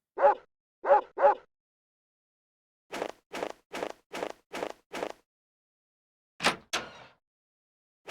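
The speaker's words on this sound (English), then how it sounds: "Woof woof." A dog barks in Mizzurna Falls, a video game: three quick barks, a pause, then a steady run of six short barks and a final pair. It sounds close and clear against silence.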